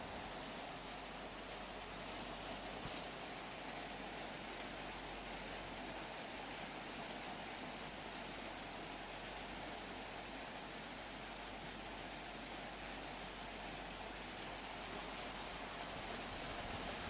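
First monsoon rain falls on a Konkan village as a constant, even hiss of rainfall, faint and distant, running unbroken without voices.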